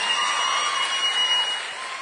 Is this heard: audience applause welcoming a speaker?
yes